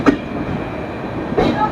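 The Panchaganga Express pulls out of a station with a low, steady rail rumble. Two brief, brighter bursts of noise come at the start and near the end, and faint voices sit in the background.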